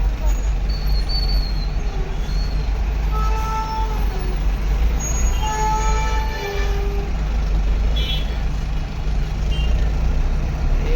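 A truck crawling through a traffic jam in Ranjangaon near Pune, a steady low engine rumble amid dense road noise, with a brief horn toot and other vehicles around and faint talk over it.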